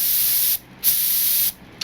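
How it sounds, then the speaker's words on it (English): A Harbor Freight HVLP spray gun sprays Rustoleum paint during a pattern test. Two steady hissing bursts of about half a second and one second sound close and loud, with a short pause between them and a small click at the end. "I like to do my initial testing on the spray pattern and everything else"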